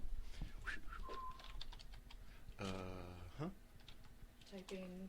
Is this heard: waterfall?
no